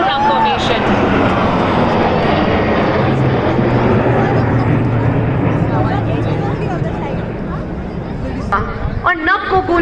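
Indian Air Force aircraft in the Varuna formation fly overhead at a Republic Day parade, a loud sustained roaring jet rumble that slowly fades, with crowd noise and an announcer speaking.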